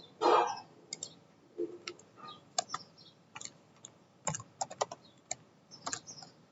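Computer keyboard typing during a website development lecture on HTML nesting and indentation, with irregular clusters of crisp key clicks and a few louder thumps, close up and with no voices.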